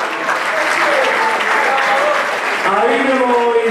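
Audience applause at the fifth Lika evening gathering (prelo) in Subotica, a steady dense clapping that fills the whole stretch, with a voice starting to speak over it near the end.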